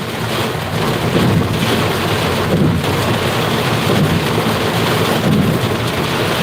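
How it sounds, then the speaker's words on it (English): Heavy rain pours down in a dense, roaring hiss, loud and constant, with low rumbling swells underneath. "This rain is crazy."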